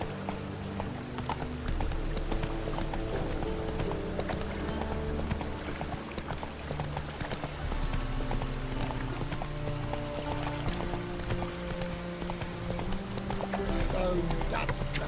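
Hoofbeats from Roach, the horse in the Witcher 3 video game, clip-clop in a fast rhythm, fairly quiet and mixed under game music and ambience, with a voice speaking at points.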